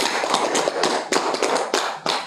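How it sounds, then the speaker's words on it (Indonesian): A short burst of close, brisk hand clapping from a physics class on sound waves in a microteaching lesson, rapid and uneven, lasting about two seconds with almost no talk. "Beri tepuk tangan dulu untuk kita semua"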